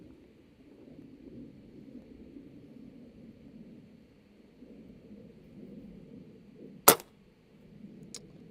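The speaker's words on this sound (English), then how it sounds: "I'm gonna shoot the top sighter and see where we hit." A Komplete NCR .22 air rifle firing an H&N Barracuda 18 pellet at an airgun expo, a single sharp, loud crack near the end standing out over a low, steady background hum, followed by a fainter tick.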